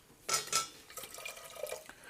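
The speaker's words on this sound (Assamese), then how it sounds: "ইফালে কুকাৰটো পাতিছোঁ ইয়াতে পানী দিম" Water splashes into a pressure cooker set on the stove for making ragi balls, a couple of quick pours followed by faint trickles and light metallic clinks, close and fairly quiet.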